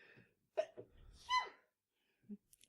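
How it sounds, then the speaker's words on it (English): A single close sneeze, a sharp inhaled build-up then a burst, with short breathy noises before and a small sound after. "I think I'm going to sneeze"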